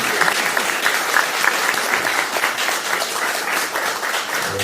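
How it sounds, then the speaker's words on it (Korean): A roomful of people at a political party meeting breaks into hearty, sustained applause, dense continuous clapping that holds evenly for several seconds. "김기용 의원님의 통큰 양보에 대해서 큰 박수를 보내주십시오"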